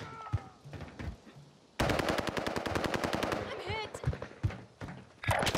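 An Owen gun fires in Warzone on the Caldera map: a few scattered shots, then a long rapid automatic burst at close range, followed by shorter bursts, with voices talking underneath.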